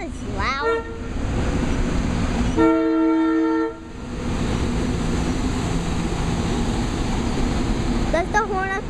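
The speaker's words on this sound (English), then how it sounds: "Does the horn have to be so loud?" A train horn blasts loudly for about a second at a railroad crossing amid steady train rumble, with a shorter toot near the end and no speech over it.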